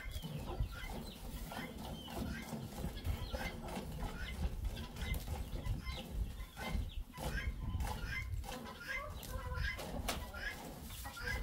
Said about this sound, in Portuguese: E o galo correu dela.